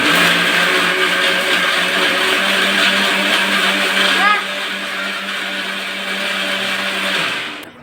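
A mixer grinder whirs loud and continuous while grinding dosa batter, its motor pitch dipping slightly partway through before it winds down at the end.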